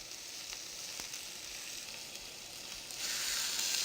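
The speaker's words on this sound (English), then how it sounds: "turn it on its side and allow the rind to become crispy. It will render very slightly" Steak rind sizzles steadily in a hot pan as the fat renders, a constant crackling hiss that swells louder near the end, with a couple of faint clicks and no voices.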